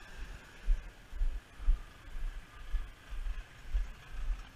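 A 1998 Ram 2500 pickup engine idling, a low, soft rhythmic throb pulsing steadily about twice per second, close and even with no squeal.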